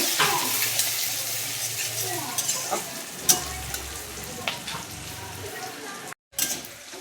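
Onions fry in oil with whole cumin seeds and two bay leaves, a soft sizzle punctuated by sharp stirring clicks and scrapes, with a low hum underneath and a brief dropout near the end.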